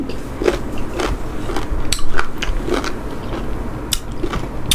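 Crunchy green mango bitten and chewed up close, a series of crisp crackling bites and crunches repeating irregularly, loud and near, with no talk.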